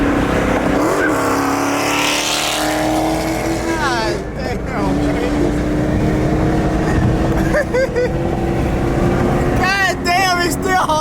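A supercharged Ford Mustang Boss 302 accelerating hard, a loud sustained engine roar with rising and shifting pitch, heard alongside wind and other car noise while people talk and shout over it.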